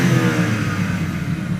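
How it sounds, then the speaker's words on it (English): A four-wheel-drive car's engine revs in a short, steady roar, close and loud with no talking. "Go and rev it up again."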